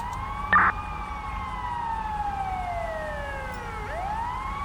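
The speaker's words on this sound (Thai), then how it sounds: "รถพยาบาลมา มาแล้ว" An ambulance siren in GTA5 with the LSPDFR mod wails loud and close, its tone sliding slowly downward and then rising again, with a short harsh burst near the start.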